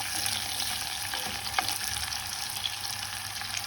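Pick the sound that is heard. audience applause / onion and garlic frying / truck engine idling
onion and garlic frying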